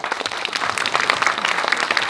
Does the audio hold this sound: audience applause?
yes